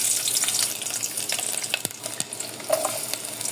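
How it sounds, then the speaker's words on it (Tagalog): Chopped garlic sizzles and fries steadily in a hot casserole pan, with a continuous crackling hiss and occasional stirring scrapes. "At ayan, mainit na yung ating kaserola. Lagay naman natin itong ating bawang."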